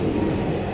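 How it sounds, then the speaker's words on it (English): Inside a moving Dhaka metro rail car, a loud steady rumble fills the cabin, a continuous low roar with broad noise and no voices over it. "You see the train is moving"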